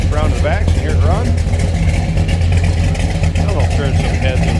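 A 1970 Chevrolet Chevelle Malibu hardtop with a big block engine idles with a low steady rumble close by, while someone talks continuously over it.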